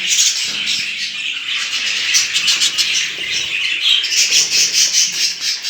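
Jumbo budgies in a breeding aviary fill the air with dense, continuous chirping and squawking chatter, a busy flock close by with occasional wing flutters.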